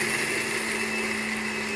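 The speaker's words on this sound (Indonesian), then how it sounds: "Oke, sip, kita blender ya." A kitchen blender grinds peanuts into homemade peanut butter, running as one steady, loud, unbroken whir with a constant motor tone from start to finish, close up and with no voices.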